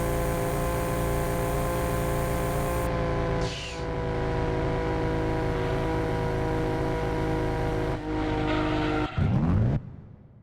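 A racing car laps in the PlayStation game Gran Turismo 2, its engine a steady, loud, buzzing tone held at high revs, with brief tire squeals and a shift near the end.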